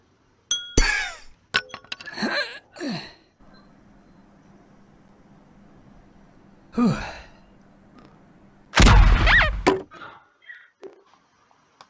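In the Henry Stickmin video game, a hammer smashes glass: several sharp crashes and clinks come in separate bursts, with a loud shattering burst near the end and quieter tinkling in between.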